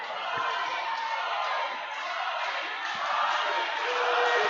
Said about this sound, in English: Crowd here fully behind Robby Collins